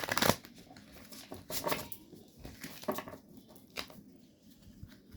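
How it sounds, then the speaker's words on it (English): A Wild Unknown Tarot deck is shuffled by hand in several quick riffling bursts with brief pauses between, soft and close in a quiet setting with no talking. "We're going to go ahead and shuffle the deck a few times."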